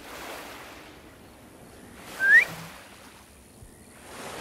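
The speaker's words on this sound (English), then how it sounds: "Did she just whistle at me" A character in Guild Wars 2 whistling, a single short rising whistle over a soft wash of ambient wind and surf-like background, brief and moderately loud.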